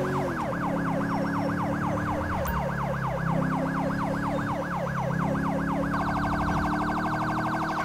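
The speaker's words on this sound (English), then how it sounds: "I wish there was a way to have a different siren for each department" A police car siren in GTA V with the LSPDFR mod wails in steady rising-and-falling sweeps, then switches to a faster yelping pattern, loud and continuous over low engine noise.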